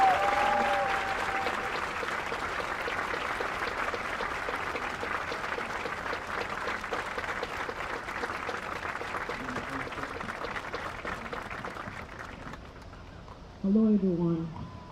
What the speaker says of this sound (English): Let's give a big round of applause to Yifan Lin